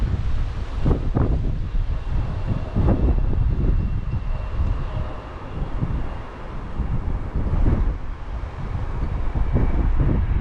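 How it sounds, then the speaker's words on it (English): Strong, heavy wind buffets the microphone at an airport runway with planes nearby, a continuous loud low roar with gusty surges and no speech. "Heavy winds."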